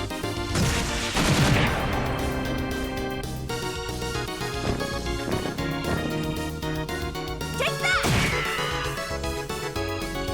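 Booming cannon fire and battle impacts from the Trails in the Sky video game, with repeated heavy bursts and crashes over a dense, continuous game music score.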